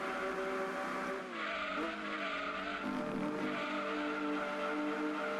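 Racing engines in Gran Turismo 2 roar steadily with rising and falling whining tones and tire skids, as a Lotus Elise 190 chases a Ford GT40 to overtake it; continuous and loud throughout.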